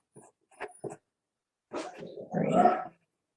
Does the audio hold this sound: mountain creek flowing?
no